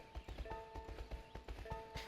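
Horse hooves canter in the video game My Horse & Me 2, with Blueberry the horse striking a quick, steady clip-clop rhythm over sustained game music tones.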